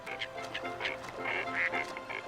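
Ducks quack repeatedly in short nasal bursts, several birds calling irregularly over a low background murmur.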